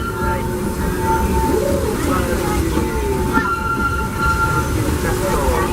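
A loud, continuous rumble of the Disneyland Railroad train pulled by the C.K. Holliday #1 locomotive rolling along the tracks, with thin metallic wheel squeals rising and falling over the clatter.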